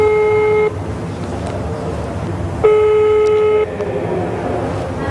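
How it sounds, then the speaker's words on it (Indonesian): Telephone dialing tones sound as two loud, sustained electronic beeps, each lasting about a second, separated by a gap of background noise. "Oke, saya coba telepon"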